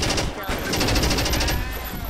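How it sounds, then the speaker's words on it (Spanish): Gunfire in a first-person video game, a rapid burst of loud, rattling shots over dense, noisy in-game sound. "Me iba un disparo de francotirador."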